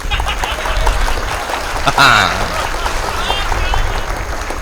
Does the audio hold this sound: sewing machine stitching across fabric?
no